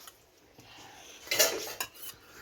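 A child eats with a spoon, which clinks and scrapes against a dish. There are a few light taps, then a louder cluster of clatters near the middle. No one talks.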